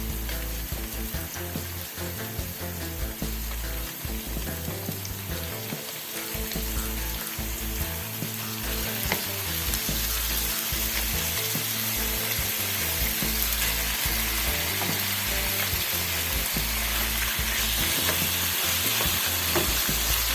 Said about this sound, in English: So I guess you let this fry for a while.